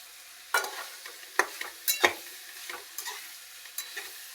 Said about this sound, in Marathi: ह्याच्यात अंडे चांगले फ्राय करून घ्यायचे बरं का